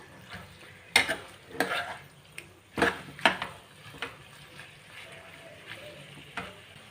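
Butter chicken is stirred in a pot: sharp metal spoon clinks and scrapes come in irregular bursts over a faint simmering bubble, close and without talk.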